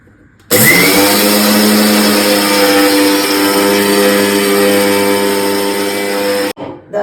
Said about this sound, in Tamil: இந்த பக்குவத்தில் இதை நம்ம மிக்சியில் போட்டு மாவாக அரைக்கணும்.